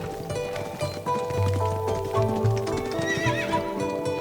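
Mongolian horses clip-clop close by on the steppe while several whinny and neigh, with a high drawn-out neigh rising near the end over a busy outdoor din.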